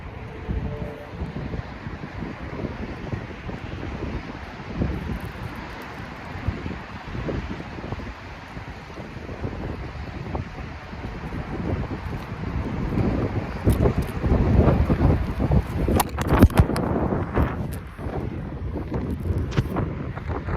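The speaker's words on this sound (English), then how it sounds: "See that wind blew" Wind blows outdoors in a steady, rough rush against the microphone, gusting harder toward the end with some buffeting thumps, no voices.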